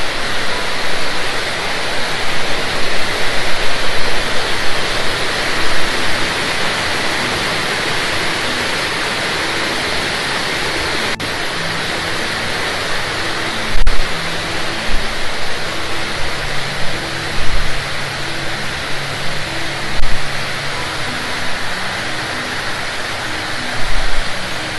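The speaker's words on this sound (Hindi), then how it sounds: "ये डैम का ही पानी है जो सारा, देख सकते हैं आप।" Rushing water pours out from a dam in Kam Shan Country Park, Hong Kong, a loud, steady roar throughout, with a few faint thumps in the background.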